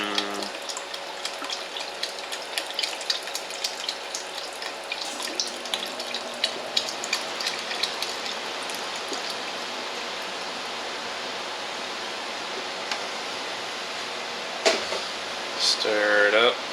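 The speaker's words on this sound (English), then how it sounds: "Now, go ahead and add the rest of this beef broth." Beef broth pouring into a soup pot of cabbage vegetable soup: a steady, even liquid rush runs on for many seconds with a brief splash near the end, close and moderately loud with no talk over it.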